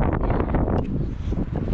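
Wind buffets the microphone on a mountain clifftop at Mount Koshka near Simeiz, Crimea, a loud, continuous rumbling gust with fluttering bursts and no speech.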